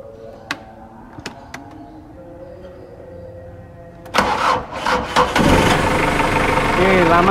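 A Caterpillar forklift truck engine sits quiet under a few faint clicks, then cranks and catches, settling into a loud, steady, rumbling idle close by.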